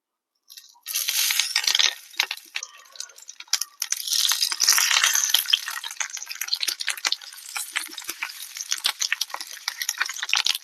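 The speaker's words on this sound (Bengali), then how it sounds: "তেল গরম হয়ে গেছে, এবারে মুড়িয়ে রাখা পাতুরিগুলো দিয়ে দিচ্ছি।" Cauliflower paturi parcels wrapped in leaves are laid into hot oil in a pan, giving a loud, continuous crackling sizzle that begins abruptly and keeps spitting with sharp pops throughout, with no one speaking.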